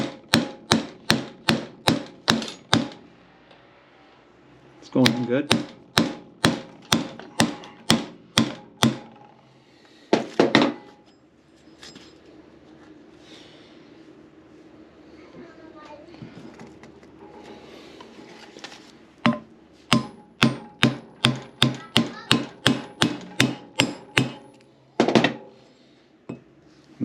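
Repeated hammer-like strikes as a Cusco rear limited-slip differential part for a Toyota Celica is tapped into place with a tool, coming in fast bursts of sharp metallic knocks separated by quieter pauses, with a brief spoken remark.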